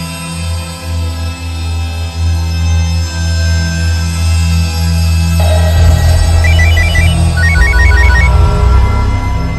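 A phone rings with a repeating electronic chime in regular bursts, over a steady low engine-like drone.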